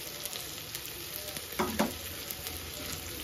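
Vegetables frying in a pan for veg biryani, a continuous close sizzle with a few louder stirring scrapes partway through, no talk.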